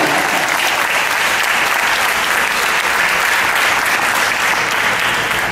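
A seated panel audience breaks into loud, sustained applause, a dense even wash of many hands clapping close by with no talk over it.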